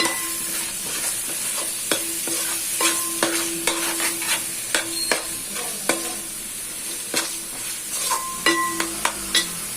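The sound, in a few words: coconut paste frying and being stirred in a pan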